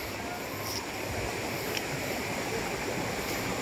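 Water rushing and churning at Lusaran Dam, a steady, loud roar of flow that fills the whole stretch, with faint crowd noise from bathers mixed underneath.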